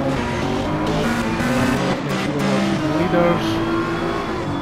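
GT3 race cars roar off the start at Monza in a racing video game, a dense pack of engines accelerating together with rising revs, loud and continuous, while a commentator speaks briefly over it.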